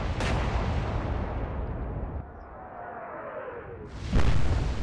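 Heavy battleship guns fire in a naval battle in the video game Atlantic Fleet, with a loud boom at the start and another at the end, the rumble of the shells carrying between them.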